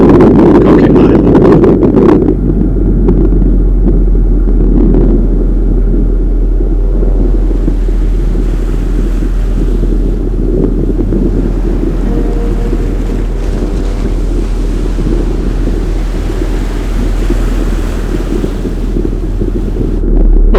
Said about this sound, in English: we would have a good beat reach, albeit a little bit bouncy, whilst we sailed out beyond Coquet Island